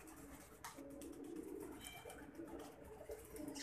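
Soft, low pigeon cooing repeats gently over a noisy background, quiet and close with a murmuring, throaty rhythm.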